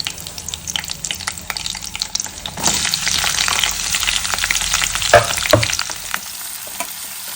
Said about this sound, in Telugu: ఉల్లిపాయలు బాగా వేగాయండి